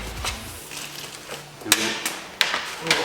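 A small metal bolt from a car window motor drops and bounces over a metal grate, making a few sharp, close clinks and taps spread across a few seconds, with a faint voice in the background.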